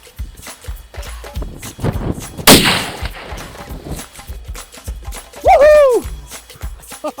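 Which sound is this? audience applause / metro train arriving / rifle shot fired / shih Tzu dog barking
rifle shot fired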